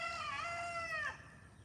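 A rooster crows once, a loud, close, drawn-out call that rises then breaks off sharply, leaving only faint background noise.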